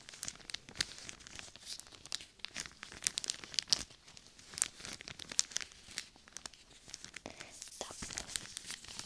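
A plastic packet crinkles and rustles up close in a quiet ASMR setting, a steady run of sharp crackles and small tearing sounds, with no speech over it.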